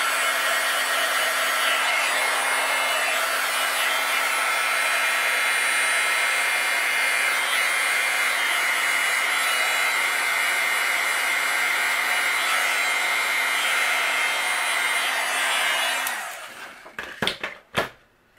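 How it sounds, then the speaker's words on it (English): A heat gun runs in a steady, loud broadband blow with a constant hum while melting embossing powder on a handmade Easter greeting card, then cuts off near the end, leaving a few brief clicks and handling sounds. "let's use our heat gun. I'm going to let it heat up a little bit and we'll melt this."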